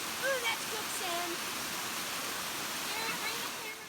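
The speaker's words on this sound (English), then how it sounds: "We have made it to the waterfall." Steady rushing roar of a waterfall at Blue Wall Nature Preserve in Upstate South Carolina, a constant broadband wash of falling water with faint voices briefly audible over it.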